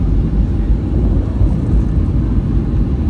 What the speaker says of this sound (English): The landing gear is extended, so the wheels are coming out for landing.